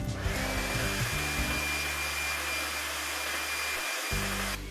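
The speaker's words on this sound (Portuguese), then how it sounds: "colocar ali os soprador ou secador de cabelo para aquecer essa etiqueta" A hair dryer blows steadily at close range, heating an adhesive sticker label on a refrigerator; the loud whirring drone runs continuously, briefly dipping near the end before resuming.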